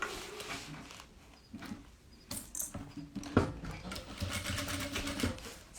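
Sewing machine stitching the bias-bound seam of a fabric pencil case in quick, uneven runs of rapid needle patter, close up, with fabric handling in between.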